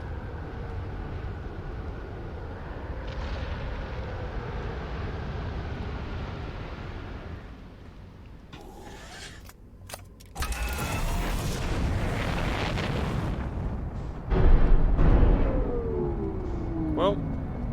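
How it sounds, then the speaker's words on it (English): In the video game Outer Wilds, a hurricane hurls the player's ship up into space: a steady roaring, creaking rumble that drops briefly, then surges back louder, with a heavy boom near the end. "It looks like this hurricane is about to shoot us up into space."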